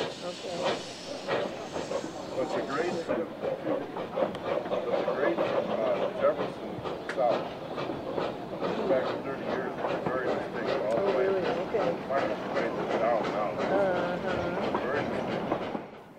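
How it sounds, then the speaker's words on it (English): Historic steam train hauled by the Eureka and Glenbrook locomotives pulling away from the water stop at Lava, with steady hissing steam and rhythmic exhaust chuffs building over rolling wheel noise, loud and continuous. "We join the Thursday train as it departs the water stop at Lava."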